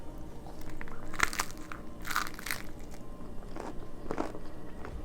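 Several crisp crunching bites into a crispy cheese chaffle, close and fairly soft, separated by brief pauses with quiet chewing between them.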